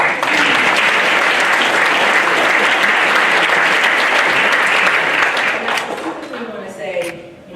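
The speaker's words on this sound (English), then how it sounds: "Let's clap for the people." Audience applause at a community update forum held by a circuit attorney, a loud, full burst of clapping that carries steadily for several seconds, then thins out as a voice starts speaking near the end.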